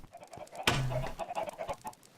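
Minecraft chickens on a small chicken farm cluck in short, soft bursts, with one louder squawk near the start standing out above the quieter, scattered clucks.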